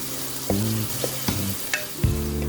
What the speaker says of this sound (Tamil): இந்த ஆனியன்லாம் சேர்த்ததுக்கப்புறமா ஜஸ்ட்டு பச்சை வாசனை போகிற வரைக்கும் வதக்கினா போதும்